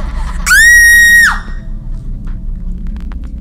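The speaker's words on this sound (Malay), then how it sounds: "Apa lagi, aku jeritlah sekuat hati." A single loud, high scream used as a sound effect in a Malay horror audiobook rises sharply, holds for about a second, then cuts off over a low background hum.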